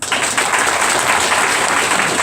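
A crowd at a party militants' meeting breaks into continuous applause, a dense, loud wash of clapping that holds steady for a couple of seconds without talk over it.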